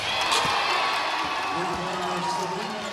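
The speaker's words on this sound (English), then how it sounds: "listen to the crowd in LA" Dense crowd roar at a women's basketball game between the New York Liberty and Los Angeles Sparks in LA, sustained and fairly loud, with an announcer talking over it.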